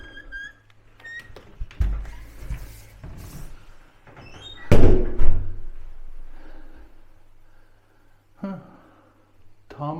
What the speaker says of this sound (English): Let's try the door.